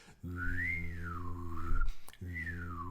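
A whistled imitation of a laser, a wavering tone sliding up and down over a low hum, then cut off and starting again.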